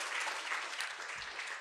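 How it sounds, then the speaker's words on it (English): Audience at a Pan-Africanism conference applauding a speaker, a dense, even patter of many hands clapping steadily, fairly distant and moderate in level, with no talk over it. "Another hearty or a round of applause for our brother Mahmoud."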